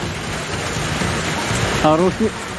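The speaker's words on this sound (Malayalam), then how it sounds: "ചാത്തമംഗലം മുക്കം മേഖലകളിൽ ശക്തമായ മഴയാണ് അനുഭവപ്പെടുന്നത്" Heavy summer rain falling in the hilly Mukkam area of Kozhikode, a steady dense wash of noise throughout, with a voice speaking briefly near the end.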